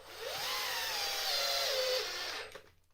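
A power drill drives screws into parts of an R2 droid replica build, one steady rising-then-falling whine lasting about two seconds, close and loud, with no talk over it.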